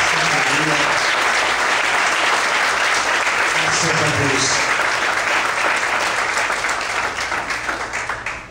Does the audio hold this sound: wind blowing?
no